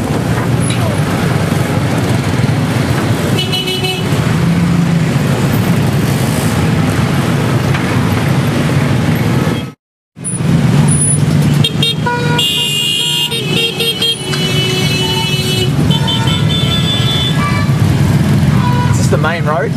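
Heavy road traffic on a busy main road in Bali, with engines droning loudly and close, a car horn sounding, and a short cut of silence midway before the traffic noise resumes.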